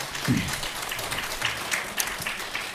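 Applause from a small studio audience during a Korean Buddhist broadcast about Baekjung prayer, brief scattered clapping heard close up alongside talk.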